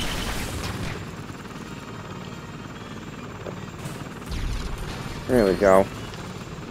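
Helicopter in the Lego Batman video game: a steady rotor drone under game effects and scattered bursts, with someone talking briefly over it and a couple of louder impacts near the end.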